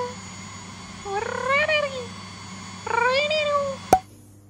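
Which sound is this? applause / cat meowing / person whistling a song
cat meowing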